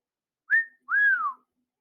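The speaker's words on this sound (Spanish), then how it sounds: "ese sonido, ese silbido, no hay palabras, solo hay sonidos" A person whistles at a passerby on the street: a short rising note followed by a longer swooping whistle that rises and falls, clear and close with no talking.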